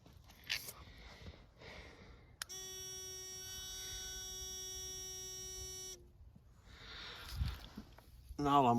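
White's handheld pinpointer metal detector gives a steady electronic hum-buzz lasting about three and a half seconds, close and even, framed by quiet handling noises and a brief rising tone at the end.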